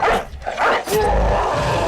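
A dog barks twice in the video game Battle Brothers, short loud yelps over a dense background of game sound effects.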